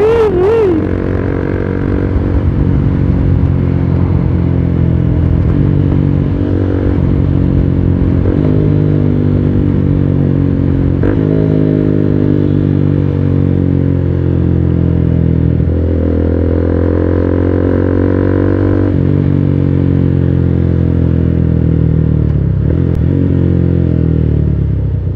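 Suzuki Gixxer SF250 motorcycle cruising in sixth gear, with a steady loud engine drone and slight pitch shifts as the speed varies, plus wind rumble throughout.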